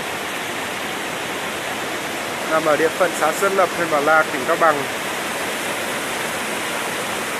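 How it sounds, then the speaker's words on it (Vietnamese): A mountain stream at the headwaters of the Năng river in Sơn Lập commune, Bảo Lạc district, Cao Bằng, flows strongly in a loud, steady rush that continues throughout, while someone speaks briefly over it midway. "Oh, nước suối chảy to lắm rồi các bạn."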